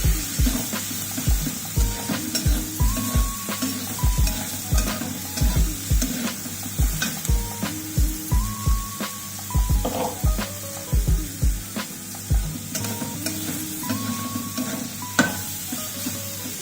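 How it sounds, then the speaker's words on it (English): A spoon stirs about 250 grams of homemade paneer into sizzling stir-fry vegetables in a pan, with a steady rhythm of scrapes and knocks over continuous frying hiss, close up and with no talk. "Adding around 250 grams of homemade paneer. Give it a good mix."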